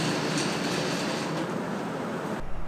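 A Rail King Intelligent Classical battery toy train set runs steadily around its track at normal speed, giving a continuous close rumbling whir that stops abruptly near the end.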